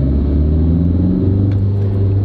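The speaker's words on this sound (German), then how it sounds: "und ich drücke jetzt mal voll aufs Gaspedal" A car pulling hard at full throttle in second gear from about 30 km/h, a loud, steady low engine drone whose pitch shifts slightly as it climbs, with no voices.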